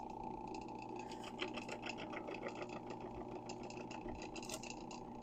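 A bowling ball spins on a polishing machine, giving a steady whirring motor hum with a faint rattling buzz, constant and close throughout.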